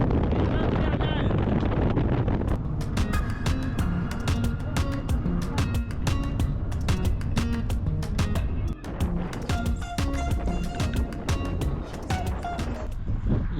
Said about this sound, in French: Ah, la Patagonie et le vent, c'est infernal.